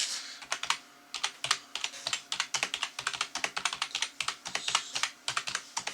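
Rapid clacking of mechanical keyboard keys, crisp and close, in uneven bursts of keystrokes with brief pauses, no talking.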